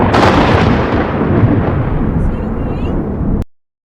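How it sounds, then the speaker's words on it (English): Thunder from a lightning strike on Fuego volcano at night: a loud, deep, booming rumble that starts immediately and slowly fades over about three seconds before cutting off, with no voices. "A lightning bolt suddenly struck Fuego volcano in the middle of the night."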